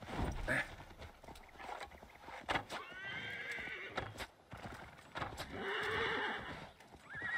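Horse in Assassin's Creed Valhalla whinnying in loud, wavering bursts over steady clip-clopping hooves, with wind and game ambience running underneath and no talk.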